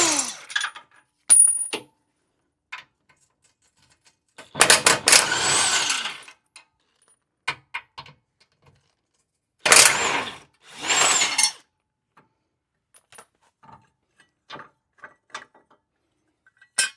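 Ratchet backing out 21mm hex bolts from a bracket and recovery hook on a Jeep Wrangler JL, a few bursts of clicking ratchet strokes between quiet gaps, with occasional metallic clinks.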